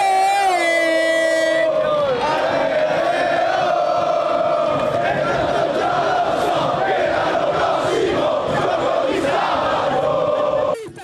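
A crowd in Prato della Valle, Padua, celebrating Calcio Padova's promotion to Serie B, with loud sustained cheering, chanting and horns blaring throughout, and a long tooting horn at the start.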